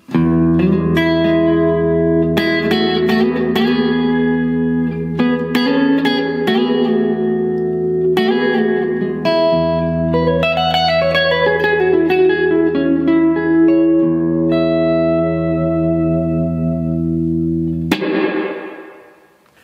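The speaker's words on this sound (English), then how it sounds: "just so we can hear the reverb, let's crank it all the way up" Electric guitar chords through a Blackstar St. James EL34 combo amp with reverb turned fully up ring out, each strum washing into the next before a final chord decays into a lingering wet tail.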